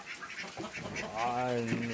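Several ducks quack close by, their nasal calls rising and overlapping, with a voice speaking briefly amid the noisy outdoor background.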